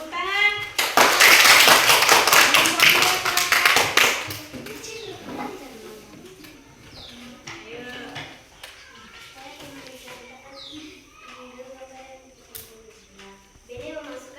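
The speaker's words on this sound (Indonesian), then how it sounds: "Tepuk tangan." A primary school class in Indonesia claps for a group of pupils, a dense burst of many small hands lasting a few seconds, loud and close, then fading as a teacher's voice carries on speaking.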